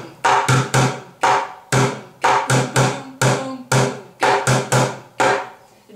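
Bucket drumming on an upturned plastic bucket, a three-measure pattern with an extra bass boom, loud sharp hits in steady rhythmic groups of deep booms and brighter rim-like strikes, played alone.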